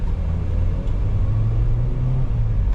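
Nissan Grand Livina 1.8 automatic, a 2012 car, on a test drive: a steady, close low engine rumble with road noise that rises slightly as it accelerates, no voices.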